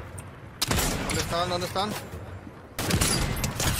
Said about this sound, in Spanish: ¿por acá hay disparos?